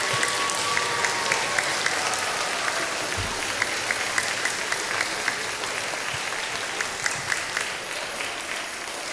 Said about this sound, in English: So children, can we give a round of applause to all the parents?